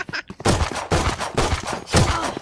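Classic pistol right-click burst fire in a video game, three loud quick volleys of shots in a row, close and sharp, with a short reload-like click before them.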